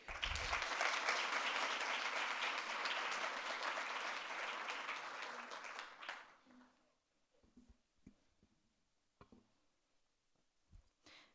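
Audience applause welcoming an art and social justice speaker fills a hall, loud and steady clapping for about six seconds before fading into scattered claps and room noise.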